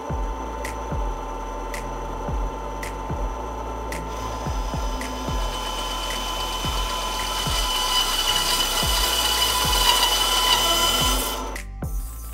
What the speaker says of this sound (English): I have a bandsaw, so I'm gonna use that